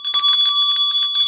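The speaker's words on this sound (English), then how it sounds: "That's my happy bell." A small hand bell rings brightly and steadily for just over a second, with sustained metallic ringing tones and repeated strikes, loud and close.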